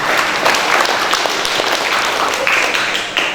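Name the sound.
audience applause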